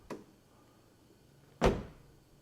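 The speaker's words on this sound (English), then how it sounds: "Watch what happens when I open and close the door." A Mercedes W123 sedan door opens with a light clunk, then after a pause shuts with a heavy, close thunk that rings briefly, in a quiet space.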